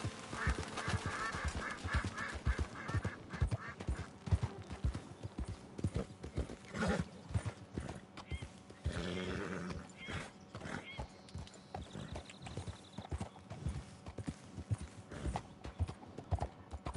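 A horse's hooves clip-clop steadily in Red Dead Redemption 2, a continuous close rhythmic trot with occasional whinnies and other animal calls mixed into the game's ambience.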